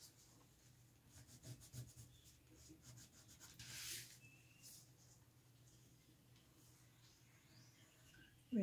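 A pencil scratches and rubs on paper in quick, light strokes close up, with a brief louder scribble midway.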